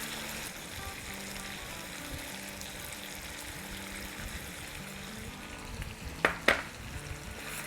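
Biryani masala sautéing in a pan for a Madrasi chicken biryani, giving a steady, close sizzle and fry with gentle stirring throughout, plus a couple of sharp scraping clinks of a spoon against the pan near the end.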